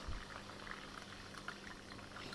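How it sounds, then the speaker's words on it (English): Lemongrass water poured into a Ting soft drink to top it up, a steady fizzing, bubbling pour heard up close and moderately quiet, continuous throughout with no talking. "So I'm going to now top it up the rest with the lemongrass water."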